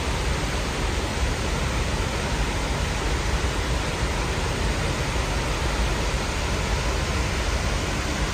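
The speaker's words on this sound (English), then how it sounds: "180-degree waterfall." A wide, 180-degree waterfall at Idaho Falls pours in a steady, dense roar that holds at an even level throughout, with no voices over it.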